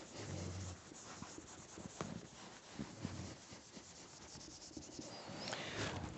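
Dry rubbing and scraping on a board while chemistry structures are drawn, a run of short scratchy strokes close by with brief low thumps.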